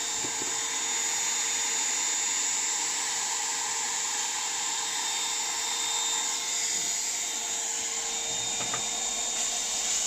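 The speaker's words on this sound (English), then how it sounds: "that's just melted the plastic together, and then use the plastic welding rod" A plastic welder melting the broken front bumper of a Land Rover Discovery 2 Td5 makes a steady, close electric whine and hum with a faint tonal ring, constant throughout with no voices.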